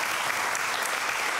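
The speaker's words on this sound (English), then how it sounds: "big applause for Gebran" Brief burst of steady, dense audience applause at a hemp history event, loud and even throughout with no voices over it.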